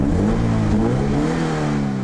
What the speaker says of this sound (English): the engine is a Subaru Boxer